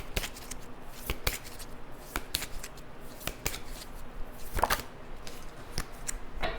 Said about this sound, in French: j'ai vraiment besoin de vous tirer une autre carte comme celle-ci